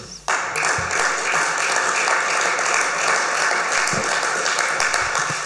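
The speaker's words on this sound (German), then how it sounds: "Applaus" Sustained audience applause following a political speech, a dense, even wash of many hands clapping that starts abruptly and holds steady throughout.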